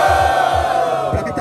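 A crowd at a street rap battle cheers and shouts for a rapper, loud and close, with rhythmic bursts of yelling that swell and fade over a steady roar.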